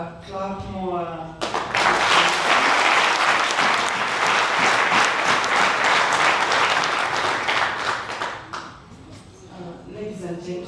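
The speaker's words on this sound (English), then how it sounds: "Please make the clap more." Audience applause at a talk on traditional spirituality, herbal medicine and witchcraft, a loud, dense burst of clapping from a crowd lasting several seconds, with a speaking voice before it begins and again as it fades.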